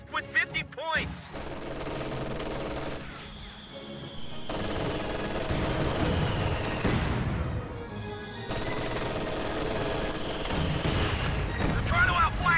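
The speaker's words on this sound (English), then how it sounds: "They're trying to outflank us. Taking enemy's fire." Machine-gun and rifle fire rattle through a WWII strategy battle with tanks and an anti-tank gun, sustained bursts and distant booms layered into a dense, continuous din while someone talks over it.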